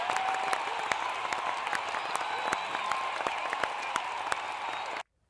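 A studio audience applauds steadily for about five seconds, a thick wash of clapping with a few sharper hand strikes, then it cuts off abruptly into silence.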